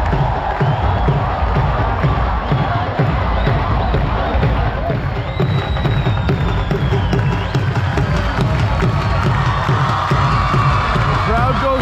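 A large outdoor crowd at the India-Pakistan border ceremony cheers and whoops wildly and without letup, a dense, loud roar of shouting voices with children's cries mixed in.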